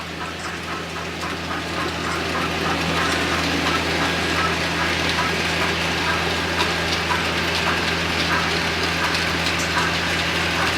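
A model steam train clanks through a rundown, a steady mechanical rattle with faint rhythmic ticking over a constant hum, continuous and fairly close.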